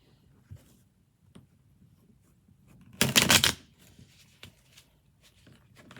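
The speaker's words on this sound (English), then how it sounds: "Spirits help me to shuffle, so hold on" A short, crisp burst of tarot cards being shuffled, riffling for about half a second in an otherwise quiet room.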